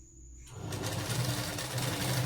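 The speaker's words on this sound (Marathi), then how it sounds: "अशी अर्ध्या इंचाची शिलाई टाकायची" A sewing machine runs steadily, stitching a half-inch seam on a blouse sleeve. After a brief quiet start it settles into a close, continuous mechanical whir with no talking.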